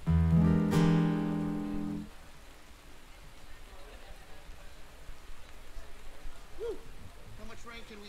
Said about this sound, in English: So good to be here in the rain.